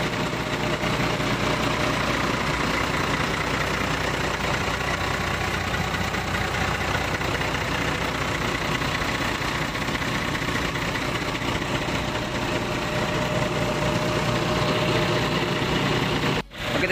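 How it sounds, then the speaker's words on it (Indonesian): Hino 260 engine of a new intercity bus idling, a steady low diesel rumble held at constant level for many seconds, close up with no talk, cutting off abruptly at the end. "Jadi mesinnya ini menggunakan Hino 260 teman-teman."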